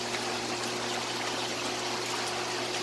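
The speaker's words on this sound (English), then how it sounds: "You have the waterfall feature," Water from the waterfall feature of a 2018 Hot Shot Spa hot tub runs in a steady, continuous wash, close and moderately loud, with a faint low pump hum underneath.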